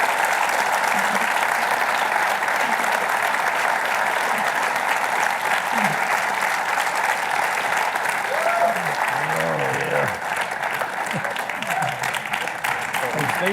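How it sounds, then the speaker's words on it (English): Loud, continuous audience applause in a theater for students at an evening event with WWII veterans, steady throughout with faint voices and cheers under the clapping. "let's give a good round of applause to our students"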